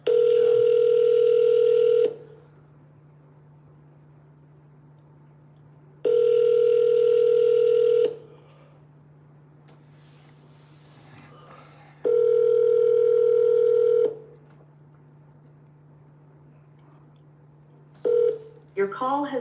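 Phone call tones: three evenly spaced two-second ringback tones over a steady low hum, separated by quiet gaps, ending with a short burst of dialing beeps.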